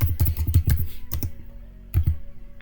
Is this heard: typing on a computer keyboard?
yes